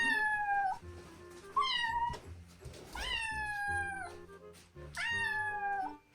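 A cat meows repeatedly, four long drawn-out wails with pauses between them, close and clear over a quiet background.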